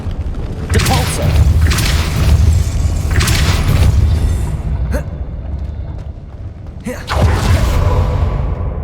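Depulso force spell cast in Hogwarts Legacy, heard as heavy booming whooshes with deep thuds, several bursts in succession, loud and close.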